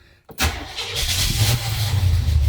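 An RV engine cranks briefly and roars to life, settling into a loud, rumbling idle close by.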